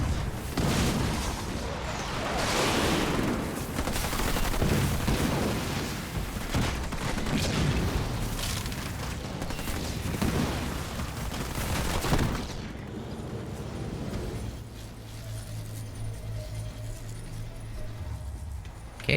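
Gunfire and explosions from a Halo Wars 2 2v2 battle with snipers, a dense continuous barrage of shots and booms that cuts to a quieter rumble near the end.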